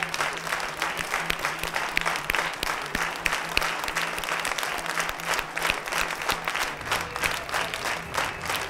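A concert audience at a televised singing contest gala breaks into steady applause, many hands clapping in a dense, continuous roar close to the microphone.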